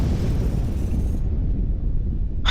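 A Novalith cannon explodes in the space strategy game Sins of a Solar Empire, a loud, deep rumbling boom that fades over about a second, followed by a short burst at the very end.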